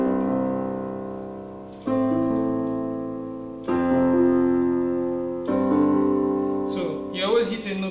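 Piano plays four sustained chords about two seconds apart, the right hand holding whole notes over a low bass, each chord ringing and slowly fading, with a brief spoken voice at the very end.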